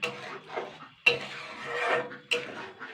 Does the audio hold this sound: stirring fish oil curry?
yes